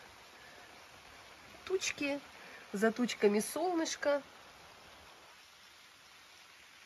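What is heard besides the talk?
rain starting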